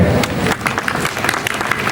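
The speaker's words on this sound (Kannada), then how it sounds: "ಚಪ್ಪಾಳೆ ಹೊಡ್ರಿ" Audience applause at a film poster and trailer launch during the Siddashri festival at Siddanakolla, a dense continuous clapping from a crowd, fairly loud and steady throughout with a few stray voices mixed in.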